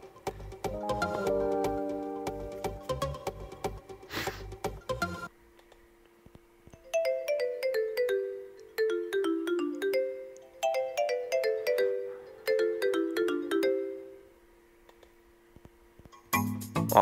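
Alarm ringtone on a CAT B35 phone: a melodic electronic tune of descending chime-like note runs, repeating in several phrases, loud and close, with other music-like tones briefly at the start and end.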